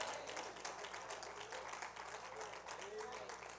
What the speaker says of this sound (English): And I see most of the sisters clapping